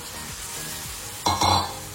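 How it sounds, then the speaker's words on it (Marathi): Masala spices, including Kashmiri red chili powder, turmeric, asafoetida and garam masala, sauté in a pan for prawn masala, giving a low, steady sizzle with soft scraping strokes and a brief louder stir near the end. "आता आपल्याला ह्याचा कलर चेंज होतोपर्यंत परतायचा आहे"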